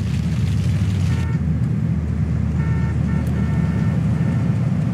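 Car engine droning in the GTA 3 video game, a loud continuous rough roar with faint tonal beeps layered over it.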